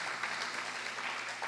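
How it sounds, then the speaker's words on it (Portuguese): Church congregation applauding together in steady, dense clapping that fills the short moment at a constant level, with no voices standing out. "Aplauda dizendo obrigado, Jesus, obrigado."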